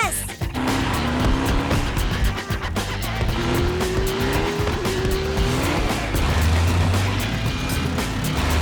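A cartoon car accelerates hard, its engine revving in rising and falling whines with tire squeal, loud and continuous under a busy mix of music and effects.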